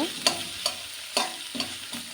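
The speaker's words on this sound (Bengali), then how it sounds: "এভাবে মাছটা আমি ঝুলঝুল করে খুব কড়া করে ভেজে নেব" Fish frying crisp in oil for a spinach dish, a low continuous sizzle broken by a handful of sharp utensil clicks and stirs, close by.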